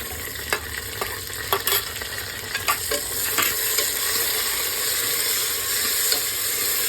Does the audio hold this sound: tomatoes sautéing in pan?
yes